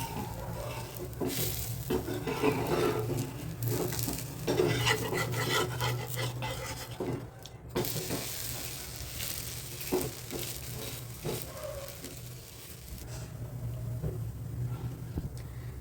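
Horse gram dosa cooking on a hot pan, with a soft steady sizzle, scraping and rubbing as it is turned over, plus a few light clinks of utensils.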